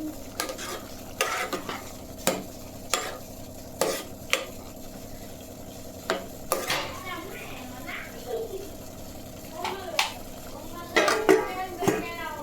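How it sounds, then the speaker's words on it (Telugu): A spoon stirs paneer cashew pulao in a metal pot with sharp scraping clinks and a soft sizzle, followed by a lid being set on. A person talks over the stirring. "ఒకసారి తిప్పేసుకుని మూత పెట్టేసుకుందాం."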